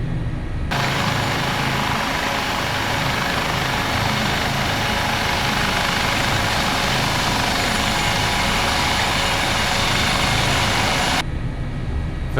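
A simulated HH-65 Dolphin Coast Guard helicopter taxis on the ground in Microsoft Flight Simulator 2024, its rotor and turbine making a loud, constant broadband roar that fades in and out at the edges.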